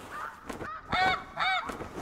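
A flock of snow geese honks in TheHunter Classic, a few nasal calls at mid distance in a quick series of overlapping honks.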